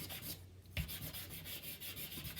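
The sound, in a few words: white charcoal rubbed over back of paper drawing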